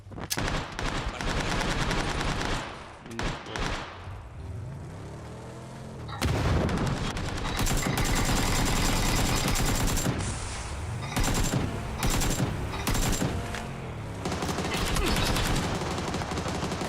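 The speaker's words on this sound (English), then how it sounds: "I'm getting fucking shot at from over here also" Gunfire in the battle royale game PUBG: dense, loud bursts of automatic weapon fire and sharp single shots, rattling on and off throughout with heavy booming reports.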